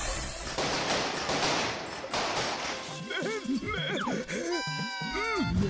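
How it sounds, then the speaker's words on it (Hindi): Cartoon fireworks going off at a celebration: a dense, crackling rush of bursts fills the first half, then a series of rising, whistling rockets pop near and loud. "यहाँ सामने आतिशबाजी हो रही है।"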